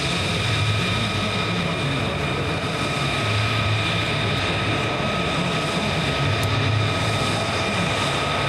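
Aircraft engine drone at an air show, a steady loud roar holding throughout with a whining tonal hum, no one speaking.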